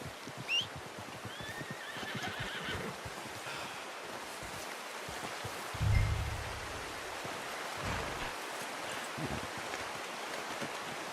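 A horse in Red Dead Redemption 2 whinnies in an outdoor game scene with wind and surf-like ambience, a clear neigh near the start followed by snorts and soft hoof clops at moderate distance.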